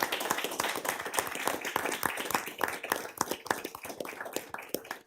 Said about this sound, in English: So can we all please give a round of applause for Paul?